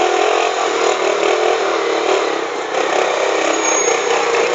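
A 750cc motorcycle engine is held at steady high revs while riding through traffic between lanes, a loud, continuous roar that barely wavers for several seconds, with no voices.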